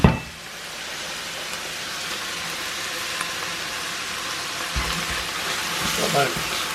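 Crushed garlic sizzles in a pan with vegetables being prepared for a yemista dish, a steady hissing fry running throughout, with a thud at the start and some clatter near the end.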